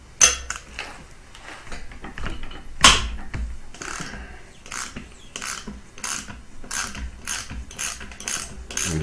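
A ratchet with an 8mm hex bit backs an oil pressure fitting out of the engine on a 2013 Subaru STI, giving rapid clicking pawl bursts in irregular strokes, close and loud, with occasional metallic knocks.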